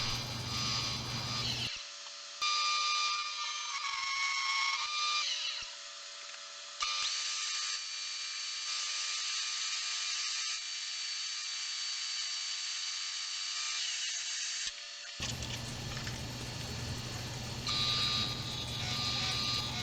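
A walnut and maple vase turning on a wood lathe while its interior is sanded, producing a steady high whine with abrupt shifts in pitch and level as contact changes.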